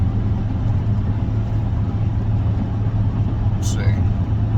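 A car drives along a road, heard from inside as a steady low engine and road hum that stays constant throughout, with a brief faint squeak near the end.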